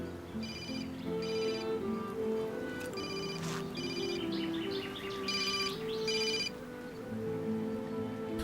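An electronic phone ringtone chirps in repeated bursts over a steady background of music and room noise, fairly prominent and with no talking.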